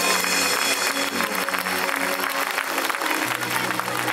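Clapping from a crowd at a spiritual gathering, steady and moderately loud, mixed with sustained musical tones and hum from a sound system throughout.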